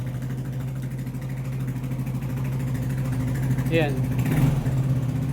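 Yamaha Nmax 155 V2 scooter with a crank position sensor fault, its engine running at a steady low idle close by with a rising surge near the end, while someone talks over it.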